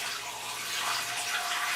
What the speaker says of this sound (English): I have Poland Spring water, 3 quarts. I'm going to add that right into the pot.